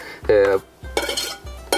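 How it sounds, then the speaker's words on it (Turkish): Three sharp knife chops through potatoes on a cutting board, spaced about half a second apart, each with a brief clattering ring, close and fairly loud. "Patatesi yarıdan geçtikten sonra bıçakla doğrayalım."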